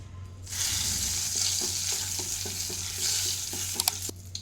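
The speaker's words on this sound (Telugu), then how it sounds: "ప్యాన్ పెట్టేసుకొని ఆయిల్ వేసేసుకున్నానండి ఈ ఆయిల్లో కారం వేస్తున్నాను అలాగే సాల్ట్ వేసుకోవాలి ధనియా పౌడర్ వేసుకోవాలి" Chili powder, salt and coriander powder hit hot oil in a pan with a sudden sizzle that keeps crackling, under a low hum, with light stirring taps and a couple of sharp clinks near the end.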